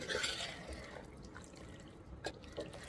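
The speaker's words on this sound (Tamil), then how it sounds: "சேர்த்து கொஞ்சமா தண்ணி ஊற்றி கிளறி விடுங்க" A little water is poured into Chettinad-style chicken with masala paste in a pan and stirred. Soft splashing and dripping sounds with a few light clinks, close and fairly quiet, with no talking.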